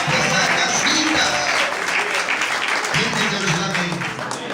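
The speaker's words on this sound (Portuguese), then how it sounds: "Você pode aplaudir o Senhor essa noite." A church congregation at a Brazilian evangelical service claps together in sustained, dense applause that stays loud and steady throughout, with faint voices mixed in.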